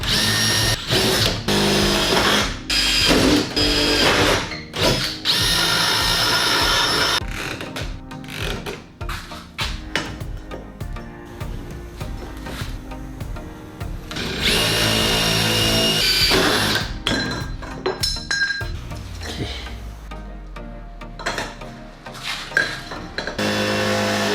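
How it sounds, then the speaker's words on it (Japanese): A power drill bores a hole for a bolt through a movable work table being built to fit out a 2-horsepower boat, with loud intermittent bursts of whining and grinding separated by short pauses and clattering handling. "そしたら穴を開けていきます。"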